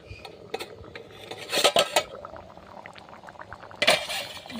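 Ghugni cooking in a covered pot makes soft bubbling underneath clinks and clatters of cookware, with a couple of louder metallic bursts as the lid or a utensil knocks against the pot.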